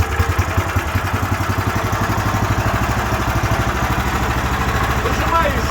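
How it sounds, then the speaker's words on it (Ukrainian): A walk-behind tractor's engine runs with a steady, rapid low thumping idle, loud and close, its even chugging rhythm holding throughout with no talk over it. "Підходжу до мотоблока, закриваю заслонку, а краник в іншу. І запускаю"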